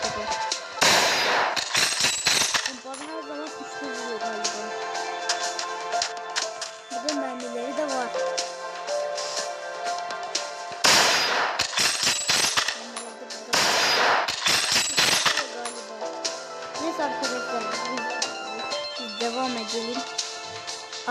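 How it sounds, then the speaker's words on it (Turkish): Shotgun blasts from a Minecraft gun mod, sharp loud bursts in two or three clusters with music tones in between. "Şimdi geldik pompalıya. Pompalı nasıl bir"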